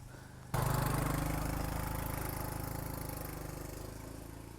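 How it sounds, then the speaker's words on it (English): A motorbike engine climbing a mountain road, starting suddenly as a loud, close, steady drone that stays strong and thins only slightly over several seconds, with no talk. "Look at this bike coming up."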